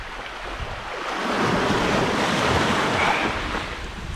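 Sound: sea waves on the beach at Anapa

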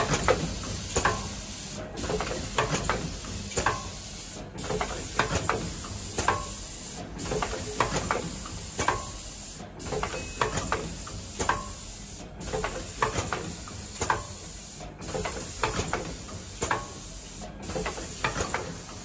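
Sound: automatic cup screen printer feeding plastic PP cups

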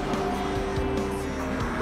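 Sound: race cars driving through a tunnel in a video game

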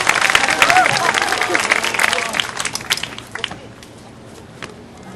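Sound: audience applause

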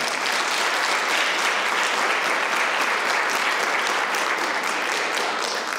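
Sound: audience applause at school drama event

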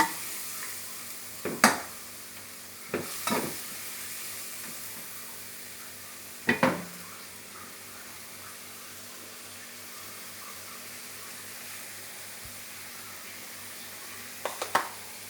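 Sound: pork and pumpkin coconut curry simmering

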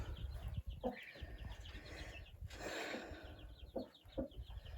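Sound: hen clucking in a chicken coop

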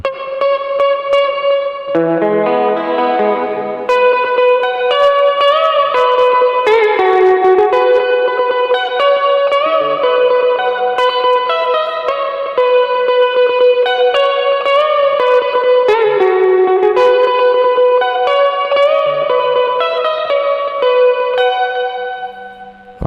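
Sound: electric guitar through compressor, tube overdrive, delay, chorus and hall reverb

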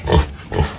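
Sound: wild boar eating

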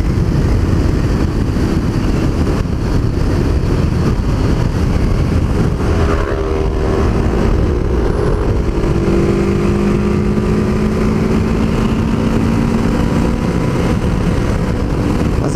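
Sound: motorcycle engine accelerating uphill

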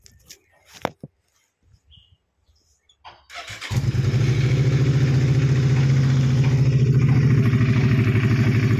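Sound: 2011 Suzuki V-Strom DL650 motorcycle engine starting and idling

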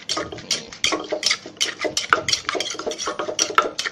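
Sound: mixing sour mango salad seasoned with fish sauce

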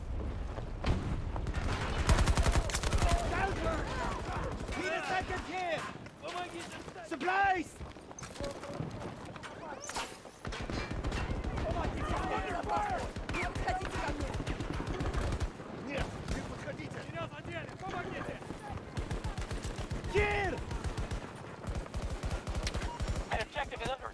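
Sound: SMG gunfire in the video game Battlefield 2042

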